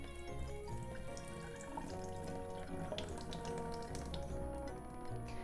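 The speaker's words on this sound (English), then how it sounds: "I'm going to prepare the rice first, so let's rinse it." Running water splashes steadily over rice grains in a sink, with small clicks and swishes as the rice is stirred gently and the water drained, close by.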